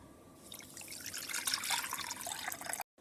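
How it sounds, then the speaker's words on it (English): Water pours into a pot of sugar to make syrup for basbousa cake, a close splashing trickle that builds for a few seconds and then cuts off abruptly. "So we poured the sugar to a pot and our water."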